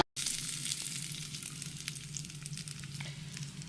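Mustard seeds and spices tempering in hot oil for a North Karnataka-style coconut chutney give a loud, steady, close crackling sizzle that fills the whole stretch without any voices.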